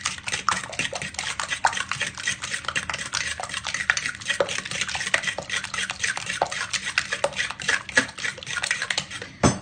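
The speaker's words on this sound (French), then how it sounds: "Ensuite, on vient continuer de mélanger le tout." Salmon and spinach quiche filling stirred in a bowl, a steady run of close, rhythmic utensil clinks and scrapes against the bowl's sides with no voices.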